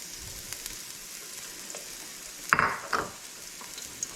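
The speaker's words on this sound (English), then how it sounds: "See, hear it sizzle?" Garlic dropped into hot oil in a pan for pasta aglio e olio gives a steady, close frying hiss, with a sharper sizzling burst partway through and a second flare-up shortly after.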